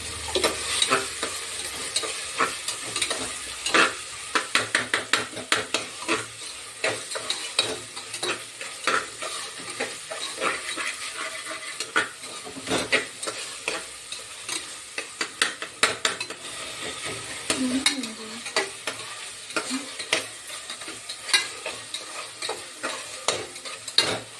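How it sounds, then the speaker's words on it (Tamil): Tomatoes sautéing in a pan with a pinch of salt, a steady sizzle running throughout with repeated scraping and stirring strokes of a spoon against the metal, close and fairly loud. "தக்காளி வதங்கிட்டே இருக்கு, கொஞ்சம் வதங்கினா மசாலா எல்லாம் போட்டுக்கலாம்."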